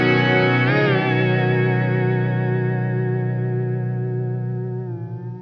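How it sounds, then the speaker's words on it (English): Sustained electric guitar chord swells through a Strymon BigSky reverb on its hall setting, a second strum landing early, then ringing out in a long, lush wash that slowly fades. "let's just try this going into the Bigsky on a hall setting"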